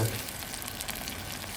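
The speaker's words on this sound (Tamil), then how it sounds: "தக்காளி சேர்த்து தக்காளியும் நல்லா வதங்கணும் இந்த எண்ணெயில்" Tomatoes and onions sauté in oil for a tamarind brinjal curry, a soft continuous sizzle, fairly faint and close, with no talking.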